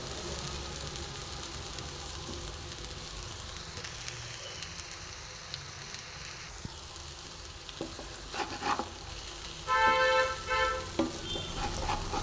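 Mango rice being gently stirred and mixed in a pan, a steady soft scraping and sizzle with a louder burst of clatter near the end, no talking.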